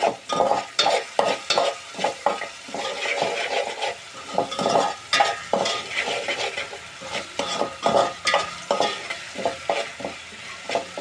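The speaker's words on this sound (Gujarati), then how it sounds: "અને એને આપણે ઘડી હલાવી નાખશું" Ginger garlic paste and onions frying in a pan while being stirred, close rhythmic scraping strokes of a spoon over a bubbling sizzle, repeating steadily every half second or so.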